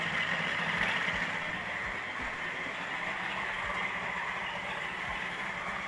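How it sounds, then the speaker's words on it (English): A coffee grinder grinds coffee beans with a steady, moderately loud motor drone and a low rumble, broken by faint periodic thumps, and it runs alone without speech. "We're going to stick those in the grinder."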